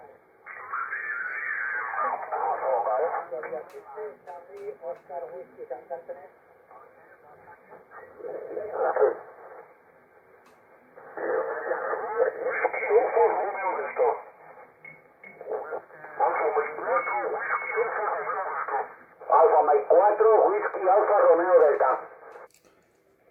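Band-limited, slightly distorted amateur radio voice transmission on the 40-meter band, received on an SDR, with bursts of French talk separated by short pauses, steady and fairly loud.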